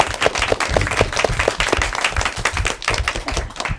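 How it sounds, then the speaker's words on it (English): Audience applause for both teams at the close of an elementary school academic quiz match, a steady dense patter of many hands clapping together, loud and sustained throughout with no voices over it. "Big round of applause for both teams."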